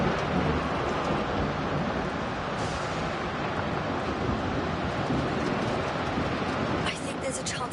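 Storm in The Invincible, with heavy continuous rain and rumbling thunder that roar steadily throughout, loud and close with no break.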